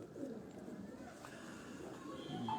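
Soft cooing of a silver pigeon, one of a crossbred flock, low and steady close by, with a faint voice mixed in.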